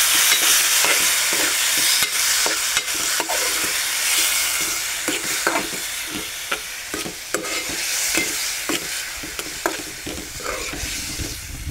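Karvand berries being stirred into masala frying in a pan, with a steady close sizzle broken by repeated scraping strokes of the spoon throughout.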